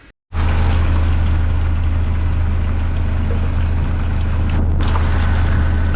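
Engine of a wooden sailboat idling in a tropical boatyard anchorage, a steady loud low rumble that runs continuously after a brief silent start, with wind noise buffeting the microphone.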